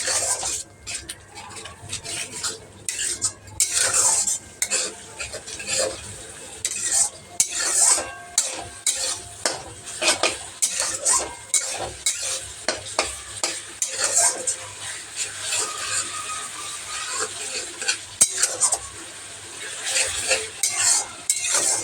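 Chicken masala seasoned with Kashmiri chilli powder and salt, stir-fried at length in a pan for chicken kosha: constant sizzling with busy, irregular scraping and clinking of a spatula against metal, close and fairly loud, with no talking.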